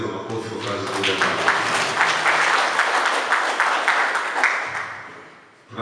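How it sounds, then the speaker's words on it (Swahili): An audience at a regional meeting of primary school heads applauds, a dense, sustained clapping that holds steady for several seconds before fading, with a voice briefly audible beneath it. "naomba tumpongeze kwa makofi kwa kazi kubwa"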